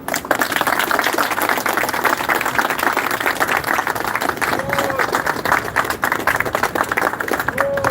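An audience claps and applauds at a camp lesson gathering, a dense continuous patter of many hands close by, steady for several seconds with voices mixed in underneath.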